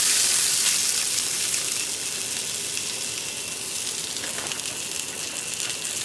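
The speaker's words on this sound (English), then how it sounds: "in a cast iron pan, we're going to have to drop the corn oil. A couple of flour tortillas." Flour tortillas fry in corn oil in a cast iron pan, a steady close hiss and sizzle with faint crackling, no voices.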